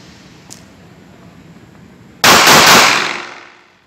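Tanfoglio / Rock Island Armory MAPP 1 MS pistol fired at night, a burst of very loud rapid shots close by that rings out and decays over about a second after a quiet wait.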